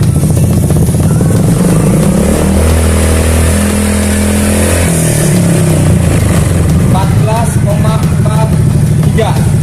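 A motorcycle engine is revved up to about 5000 rpm during an electrical charging check, giving a loud, steady engine drone whose pitch climbs and then settles, with a person talking over it.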